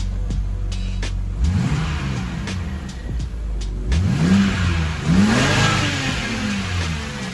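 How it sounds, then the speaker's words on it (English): A BMW E90 engine, just fitted with new ignition coils, spark plugs and oil cap, idles steadily and then is revved several times, each rev rising and falling sharply, close and loud. "Let's go ahead and rev it up."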